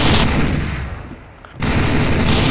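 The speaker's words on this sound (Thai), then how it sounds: "หยุดยิงปืนกัน" Dense, loud bursts of rapid gunfire in a Roblox game crackle continuously, briefly thinning to a lull before erupting again at full intensity.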